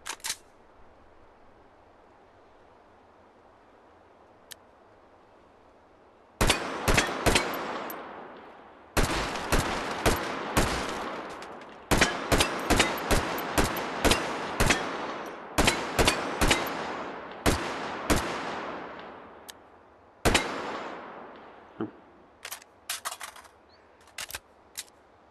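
Virtual M16/AR-15 rifle with collapsible buttstock firing in the VR shooter H3VR: sharp, loud single shots and quick bursts crack out in irregular clusters with short pauses between, no talk over them.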